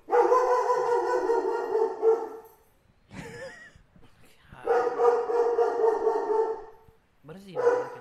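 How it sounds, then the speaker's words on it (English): A dog barks in repeated harmonic bursts, loud and close, indoors, with brief pauses between volleys and people talking nearby. "What is he barking at?"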